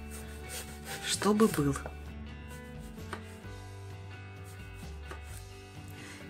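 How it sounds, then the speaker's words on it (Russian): A knife slices eggplant into thick rounds on a board, a short burst of cutting strokes followed by quieter taps while someone talks over it. "Баклажаны нам нужно нарезать. Нарезаем кружочками не очень тоненько"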